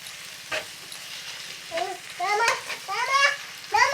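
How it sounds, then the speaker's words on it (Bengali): Garlic and ginger paste fry with browned onions in a pan for spiced shing fish bhuna, a low, steady sizzle running underneath children's voices that talk over it. "এখন একটু ভেজে নেব।"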